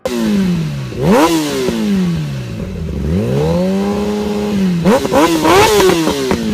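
Kawasaki motorcycle engine revving up and down in repeated loud blips, pitch rising and falling sharply across several throttle bursts, close and alone with no talk.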